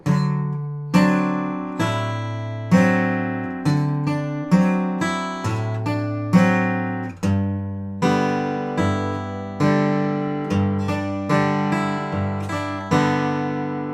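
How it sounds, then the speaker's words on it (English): Fingerpicked acoustic guitar playing a rag in ragtime style, an alternating bass line under plucked melody notes, clean and close, played solo. "So for the finger picking, it's going to sound like this."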